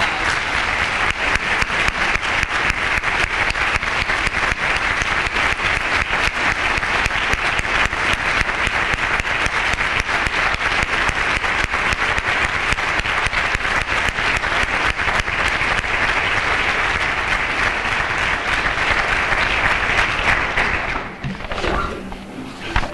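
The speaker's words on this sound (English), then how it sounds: "Let's give him a round of applause." A luncheon audience at an MLK event gives sustained, loud applause lasting about twenty seconds, then it breaks off abruptly.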